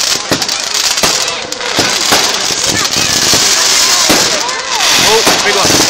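Bonfire night fireworks crackle and bang continuously at a loud, dense outdoor display, with many overlapping bursts and pops while people talk excitedly nearby.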